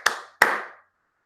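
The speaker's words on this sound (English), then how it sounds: "And they clapped." Two sharp, separate claps from a live event audience at a game showcase, each with a short decaying tail, then silence.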